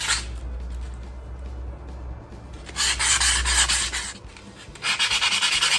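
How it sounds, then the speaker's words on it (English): Rough abrasive hand sanding against rusty metal on a postwar Lionel Lackawanna 2321 FM Trainmaster model locomotive, steady strokes with two louder bursts of vigorous rubbing, close and harsh, no voices. "So I'm just gonna keep sanding and see how it goes."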